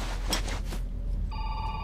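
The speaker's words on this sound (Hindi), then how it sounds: "अबे कौन फोन कर रहा है यहाँ पे?" In Metro Exodus, a telephone starts ringing in a spider-infested bunker, its electronic ring coming in late over a loud, dense game background.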